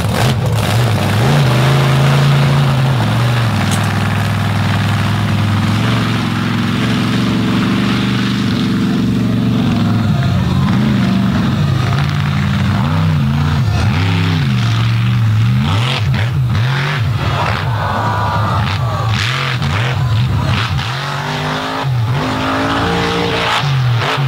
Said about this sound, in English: Really showing the power of that new engine that he's got in the back of that machine